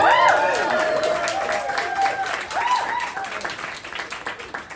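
An audience at a science comedy show applauds, a steady patter of clapping under lively voices and a speaker talking over it, fading slightly toward the end.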